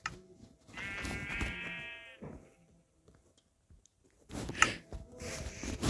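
A single sheep in a video game bleats in a wavering, harmonic call lasting about a second, followed later by a burst of game noises and chatter.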